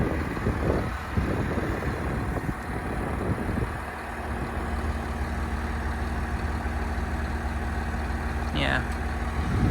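John Deere 7720 tractor engine idling with a low, steady diesel rumble close by while spreading slurry, with a brief voice near the start.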